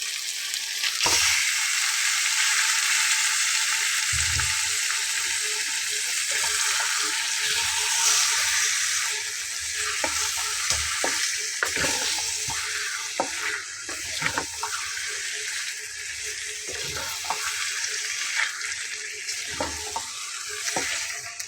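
Marinated chicken sizzles in hot spiced oil masala, a loud, steady frying hiss close by, broken by clattering stirs and scrapes of a spoon against the pan.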